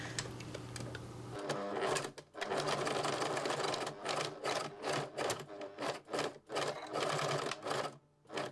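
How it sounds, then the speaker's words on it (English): A sewing machine stitches a line on a laminated fabric bag handle, backstitching at the start and end. It whirs steadily up close, then breaks into short stop-start bursts with brief pauses between runs. "we're going to do another stitching line, just presser foot width, again from the top side of my handle, backwards and forwards of course at the beginning and the end"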